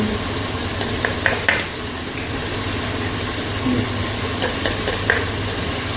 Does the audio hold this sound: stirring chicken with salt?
yes